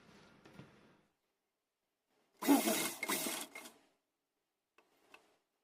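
A sewing machine runs a burst of stitching along a straight strip of fabric to gather ruffles for a small deity's dress, loud and close for about a second and a half, with light handling rustles before and faint clicks after.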